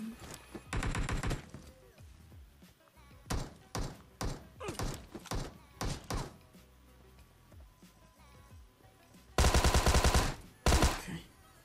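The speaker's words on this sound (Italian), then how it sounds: "Mi sparano." Repeated gunfire in the battle royale game PUBG Mobile, with several bursts of rapid shots spread across the clip and a heavy, loud volley near the end, no talking.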